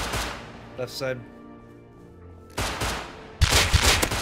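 Bursts of gunfire from the video game Rust, a short volley near the start and louder rapid shots in the second half, with excited players talking over the action.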